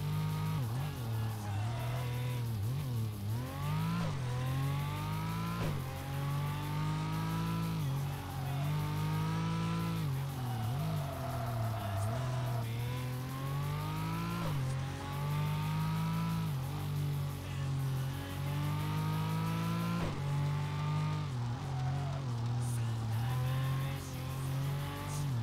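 Engine revving hard in Tokyo Xtreme Racer Drift 2 on PS2, a car drifting and pivoting through turns with a steady loud engine drone rising and falling in pitch throughout, occasional tire squeal, no talk.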